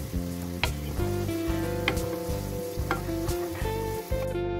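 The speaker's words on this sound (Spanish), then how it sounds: "agregamos la cebolla y los dientes de ajos picados. Rehogamos hasta que estén transparentes, a fuego suave" Chopped onion and garlic cloves sauté gently in a pan over low heat, a steady close sizzle running without a break, with a few faint clicks of stirring and no talk.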